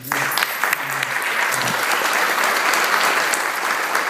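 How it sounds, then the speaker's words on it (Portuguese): A church congregation at a Baptist service applauds, a dense, steady wash of many hands clapping continuously and loudly throughout, with a few voices faintly mixed in. "Pode dar uma salva de palmas para o Senhor"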